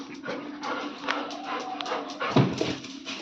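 A Golden Retriever indoors whimpers and lets out short yips and barks, close and moderately loud, with a louder bark burst near the end and faint voices in the background.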